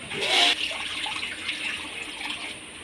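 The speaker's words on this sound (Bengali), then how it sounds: "এবার জল দিয়ে দেব কড়ার মধ্যে" Water splashes into a cooking pan on the stove, a brief loud pour at the start that fades to a soft trickle and steady hiss.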